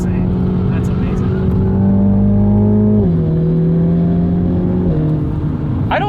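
A 2021 Mini Cooper JCW GP's 2-liter turbocharged engine drones loudly from inside the cabin, pitch holding steady then stepping down as the car shifts gears, with voices talking over it.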